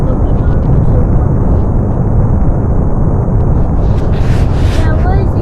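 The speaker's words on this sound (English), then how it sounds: "There was a crash explosion, but somehow the second stage made it out." Continuous loud, broadband roar of a space rocket launch carrying a CubeSat, dense and rumbling throughout, with voices talking underneath.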